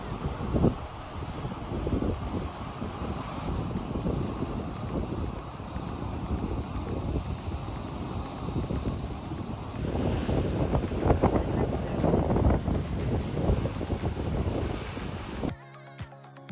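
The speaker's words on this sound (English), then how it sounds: "we saw awesome waves crashing from the road and decided to whip in" Ocean waves crashing on the rocky shore at Boiler Bay on the Oregon coast, a continuous rumbling surf with heavy wind buffeting the microphone, surging louder midway, with no voices.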